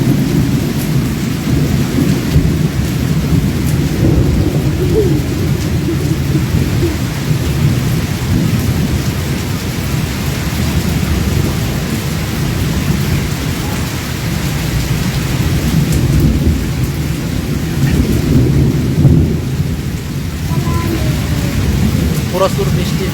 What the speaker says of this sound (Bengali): বাসার সামনে থেকে আপনাদেরকে বৃষ্টি দেখাইতেছি